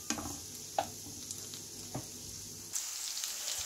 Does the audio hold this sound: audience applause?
no